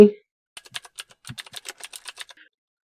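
Typing on a computer keyboard while filling in a department name in business software, a quick run of about twenty light key clicks in an uneven rhythm, close and clear, after a brief thump.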